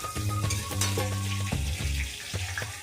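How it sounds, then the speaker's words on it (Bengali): Vegetable stalks fry in hot oil in a wok, a loud close sizzle with intermittent stirring scrapes over a steady low hum, no voices. "ভালো করে ভাজতে হবে।"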